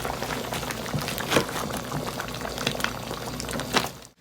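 Crab curry with coconut cream and curry leaves being stirred in a pot, a close, busy bubbling and wet sloshing with occasional louder splashes before it cuts off.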